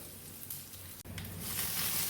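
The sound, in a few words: shallots and dried red chillies frying in oil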